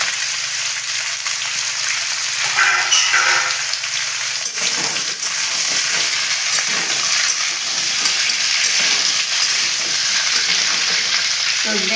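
Mixed vegetables for Bengali shukto — sweet potato, beans, pointed gourd, raw banana and drumstick — fry and sizzle steadily in a pan, with scraping stirs throughout, close and continuous without talk.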